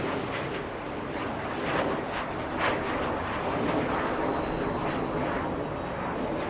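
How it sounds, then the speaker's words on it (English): A Cessna 525 Citation business jet at a busy international airport makes a steady, broad engine roar that fills the whole stretch without a break, fairly distant and even in level, with no talk over it. "Cessna 525 citation heading to Vegas"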